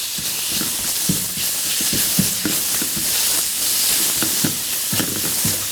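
Meat seasoned with salt, pepper and minced ginger sizzles steadily in a frying pan, with a constant hiss and repeated soft stirring knocks throughout, no talking.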